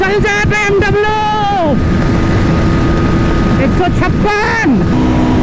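Royal Enfield Guerrilla 450 and BMW G310R motorcycles in a drag race at high speed, with engine tones rising and falling between gear shifts under steady wind roar, while someone talks over the noise.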